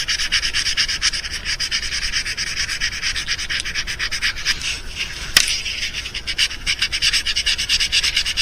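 Rhythmic back-and-forth rubbing of 1000-grit sandpaper smoothing a custom mouse fishing lure, a close, steady scratchy swish repeated in quick strokes, with one sharp tap partway through.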